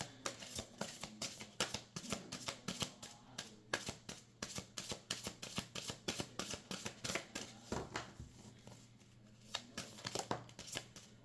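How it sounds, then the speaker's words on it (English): Tarot cards are shuffled over and over: rapid riffling and flicking bursts in an uneven rhythm, close by and fairly quiet, with no talking. "I'm going to shuffle again just to double check."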